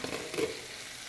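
Meatballs brown in a pan, giving a short, soft, steady sizzle with a faint scrape as they are turned, fairly quiet and with no talking.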